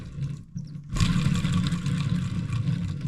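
A VW T5 2.5 TDI five-cylinder diesel runs with a noisy faulty alternator, idling briefly before a louder clattering, whirring running sound kicks in close by and holds steady.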